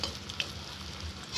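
Potatoes fried red in a wok are scooped out, giving a soft continuous sizzle with a light scrape or clink of the utensil. Quiet and brief, with no speech.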